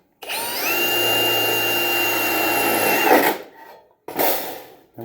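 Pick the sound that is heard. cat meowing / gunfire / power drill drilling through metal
power drill drilling through metal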